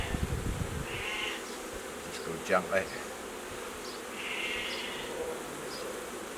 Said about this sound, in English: This is packed tight with bees.